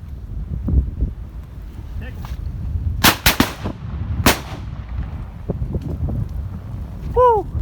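Shotgun blasts ring out while duck hunting for mallards in a Wisconsin blizzard, with three loud close reports around the middle over heavy wind noise and low rumble, and people talking nearby.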